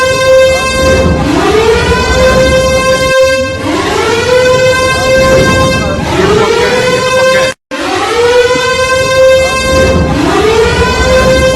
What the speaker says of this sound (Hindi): पाकिस्तान में कल रात भी सायरन पे सायरन बज रहे थे